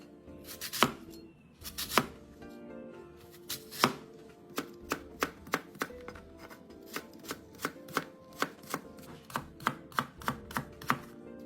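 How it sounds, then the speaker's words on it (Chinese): A knife chops a red Fuji apple into thick strips on a cutting board, a quick run of crisp, even knocks that speeds into a steady close rhythm, with no talk. "红苹果1个，一样切成粗丝"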